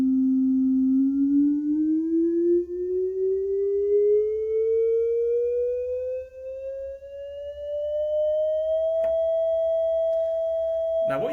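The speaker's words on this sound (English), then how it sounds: "I'm going to play a sound, and I want you to compare what happens when I change the frequency" A pure tone from a loudspeaker starts low and glides slowly and steadily upward in pitch, then holds at a higher note. It is clear and fairly loud, with a faint low hum beneath and a couple of brief clicks near the end.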